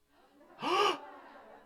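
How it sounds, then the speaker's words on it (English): A live book-club event audience gasps together in one short, sharp intake of breath, rising and falling within under half a second over quiet room tone. "Audible gasp."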